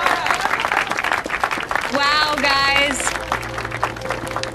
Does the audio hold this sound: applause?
yes